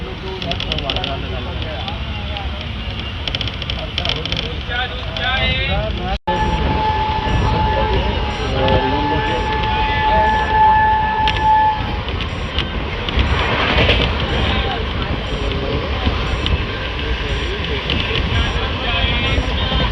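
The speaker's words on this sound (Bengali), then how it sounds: "ওইবার দিয়ে ট্রেনটাও কিন্তু সর্বোচ্চ গতিতে ছুটে বেরোলো" A train on the Puri to Bhubaneswar line runs at top speed with a continuous loud rumble and rattle of wheels and carriages, while a voice talks over the noise throughout.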